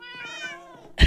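Minecraft cats meowing in a game building, a drawn-out harmonic meow for most of a second followed by a short loud burst at the end, fairly close and with no talk.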